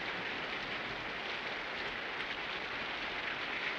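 Steady, dense rain falls in an outdoor Western setting, a continuous even hiss that stays constant throughout with no other distinct sounds.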